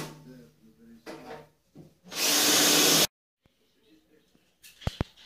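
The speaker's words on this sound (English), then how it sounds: "drilled them just to keep everything where it should be whilst I drill." A loud burst of power-drill whine lasts about a second while drilling holes in a snake rack, preceded by faint talking and scraping, then quiet with a couple of sharp clicks at the end.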